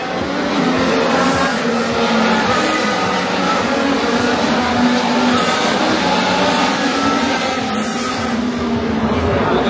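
Formula 1 cars racing at the Monaco Grand Prix with two Ferraris leading, a sustained loud roar of engines passing along the street circuit amid crowd noise, with voices talking over it.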